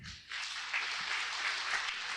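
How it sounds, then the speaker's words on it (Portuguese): A church congregation claps for the Lord during a sermon, steady dense applause filling the room after a brief voice at the start. "Aplauda bem forte ao Senhor."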